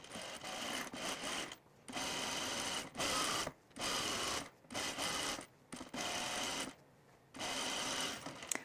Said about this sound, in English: we're just going to edge stitch it down like we would a normal rolled hem